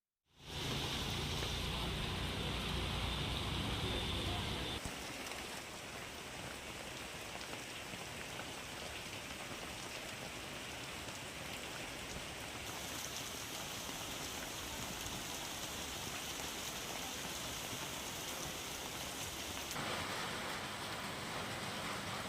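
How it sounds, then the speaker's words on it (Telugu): Steady heavy rain pours down continuously in West Marredpally, Hyderabad, a dense hiss of drops drumming on surfaces, loud and close throughout with no voices. "పరిసర ప్రాంతాల్లో భారీ వర్షం కురుస్తోంది"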